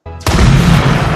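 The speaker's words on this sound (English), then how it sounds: "explosion," A loud, sudden explosion bursts in after a brief low rumble and then roars on as a sustained, dense blast that fills the whole clip without fading.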